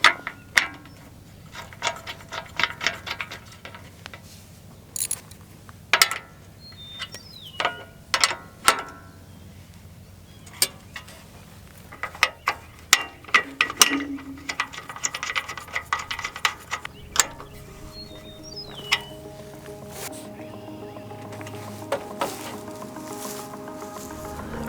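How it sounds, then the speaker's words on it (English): Metal clamp hardware for a solar panel mounting rail being fitted and tightened, with a run of sharp clicks, ratcheting and scraping taps, close and moderately loud, in irregular bursts against a quiet background. "as I work on putting this whole rail clamp together, I don't move it out of the adjustment for the amount of overhang I want"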